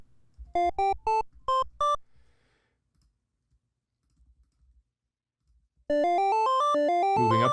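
Pico-8 chiptune notes step up a pentatonic scale, first as a handful of short, separate bleeps, then after a quiet pause as a rapid continuous run of ascending square-wave tones.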